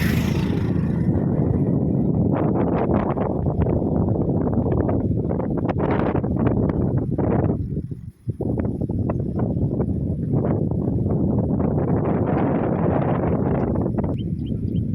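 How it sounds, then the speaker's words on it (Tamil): Strong wind buffets the microphone in a continuous low, rumbling roar that surges and eases, briefly dropping away once before returning, on the hill path to the Malaimel Nambi temple at Thirukurungudi. "காற்று சும்மா சூப்பராக இருக்குது. அந்த சவுண்டு கேளுங்க."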